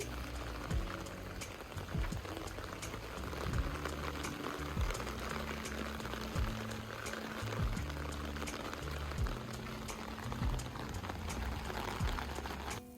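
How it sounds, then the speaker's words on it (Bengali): Heavy rain pours down in a steady, dense hiss that stays constant throughout, with no lulls or distinct drops standing out. "আজ সকাল থেকেই মুষলধারে বৃষ্টি হচ্ছে"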